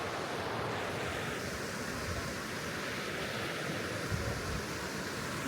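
A river flowing at a riverside campground, a steady moderate rush of water with a constant wash of noise and no voices.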